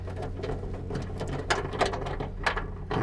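A ratchet working on 10 mm bolts in a Honda Civic trunk, quick rhythmic clicking in short uneven runs, close and moderately loud, with no one speaking.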